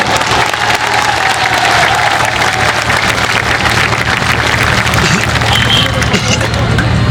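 Rally crowd in Dakshin Dinajpur applauding to honour air force soldiers, a loud, dense, sustained wash of clapping with cheering and crowd murmur throughout.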